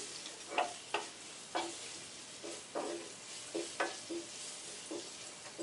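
Spoon stirring masala and salt through a pan for coconut chips, soft repeated scraping strokes at a steady rhythm over a faint background sizzle, close and quiet.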